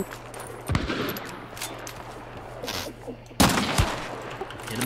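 Gunfire in a first-person shooter video game sounds as scattered sharp shots over a low steady hum, with a loud burst near the end.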